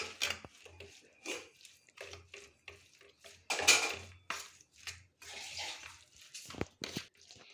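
Onions and turmeric powder being mixed by hand in a cooking pot for capsicum curry make close, intermittent scraping and clinking strokes that come in short bursts with pauses between.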